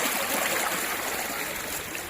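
Continuous close trickle and rush of water flowing from a natural spring, steady and moderately faint.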